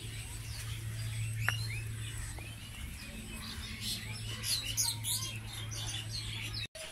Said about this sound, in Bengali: ফ্রুট ভ্যালিতেই অবস্থিত একটি গাছে পাখিদের কিচিরমিচির শব্দ